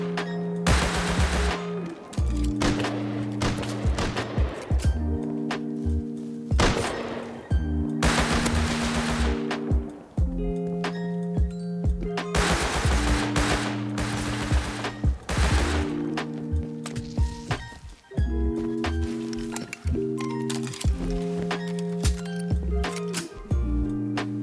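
Close-range gunfight in the survival game Rust with a Thompson submachine gun and a Python revolver: repeated bursts of rapid automatic fire and single sharp shots, broken by short gaps, over a steady musical background.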